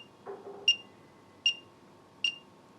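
Alarm on an Inkbird INK-IFT03 infrared thermometer: three short, high electronic beeps evenly spaced in a quiet room, preceded by a faint soft knock.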